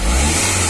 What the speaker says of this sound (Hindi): इंजन स्टार्ट है फ्रेंड्स